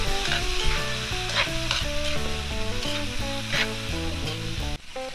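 Chili, tomato and pork fat sauté in a pan for Thai spicy tumbong with a steady sizzle and stirring, alongside a tonal backing that runs over the frying throughout.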